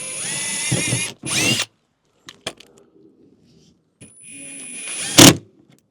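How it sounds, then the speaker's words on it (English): A drill whirs in short, sharp bursts while holes are made in an aero kit part for a VW Scirocco R, with quiet pauses and small clicks and knocks between them. "I'll drill it once it's in the spot"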